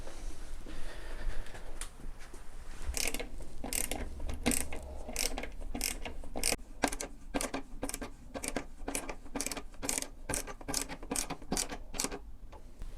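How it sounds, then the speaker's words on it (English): A screwdriver ratchets in a rapid string of clicks while screws are tightened on a ceiling-mounted positive input ventilation unit. The clicks come in quick, even bursts, close up, with no talking. "So I'll just go back downstairs and tighten up the screws."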